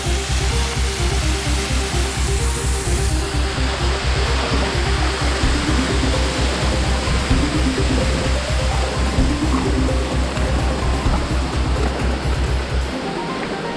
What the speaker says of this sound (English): All right, I'm under the waterfall.